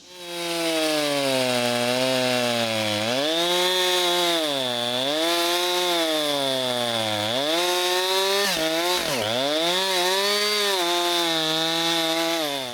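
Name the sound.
chainsaw cutting old dry wood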